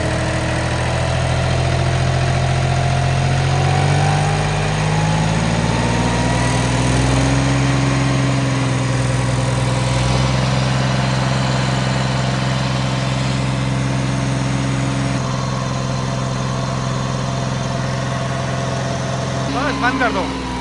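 An 11-year-old tractor engine idles nearby for a long stretch, a steady low droning hum whose pitch shifts slightly partway through, with faint voices now and then.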